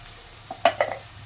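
Onions with a pinch of salt sautéing in a pan, a couple of brief stirring scrapes with faint frying sizzle over a low steady background, close by.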